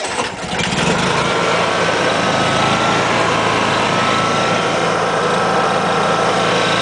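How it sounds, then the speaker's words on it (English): Portable generator starting by remote control, a brief cranking catch followed by a steady, loud, high-pitched engine hum running close by. "Go ahead and start the generator."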